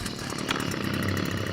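A small gasoline trimmer engine runs steadily at high revs, a continuous buzzing drone close by with no pauses.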